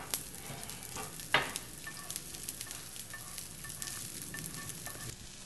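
Onions fry in a hot pan for a fish-and-tofu dish, a steady broadband sizzle with scattered crackles and one sharp clatter near the start, close and moderately quiet with no talking.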